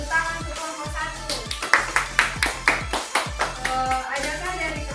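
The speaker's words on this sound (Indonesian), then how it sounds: "Tepuk tangan untuk kelompok 1." A class in a school lesson claps for a student group, a steady run of sharp, fairly close hand claps with some rhythmic bursts, while a voice and low background sounds continue underneath.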